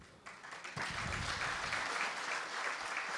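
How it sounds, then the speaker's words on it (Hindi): An audience at a Hindi kavi sammelan poetry gathering bursts into applause that swells quickly into dense, sustained clapping from a sizable crowd and holds steady, with no speech over it. "आप तालियां विकास के लिए बजा सकते हो।"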